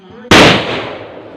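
A gundu firecracker bursts during Vishu celebrations with one sudden, loud bang, followed by a long rumbling decay that fades over the next second.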